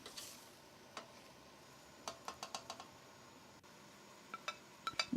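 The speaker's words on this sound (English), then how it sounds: "Then add the peas or mutter into the saucepan. And give them a good mix." Peas being stirred in a saucepan, a quiet bed of faint sizzle broken by a run of light, evenly spaced spoon taps and scrapes, with a few more clicks near the end, close and soft.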